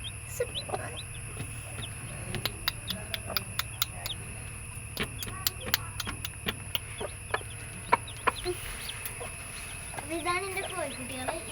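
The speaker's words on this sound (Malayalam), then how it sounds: "ഇതാണ് എൻ്റെ കോഴിക്കുട്ടികൾ" Newly hatched chicks cheep at home, a scatter of short, sharp peeps and clicks close by over a low hum, with a brief run of chirps near the end.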